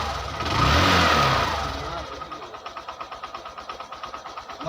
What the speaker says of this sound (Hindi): एक सेल्फ में स्टार्ट हो जाती है।